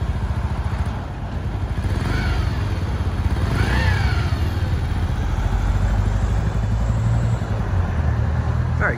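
A small 50cc motorcycle engine idles on choke while warming up, a steady close putter with a faint rising whine in the middle and no talk.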